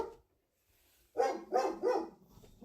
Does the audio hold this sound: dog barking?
yes